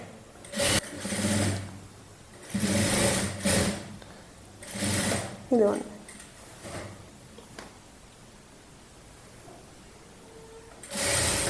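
A sewing machine stitches a lehenga with iron pleats in several short, close bursts of rapid whirring, separated by quiet pauses.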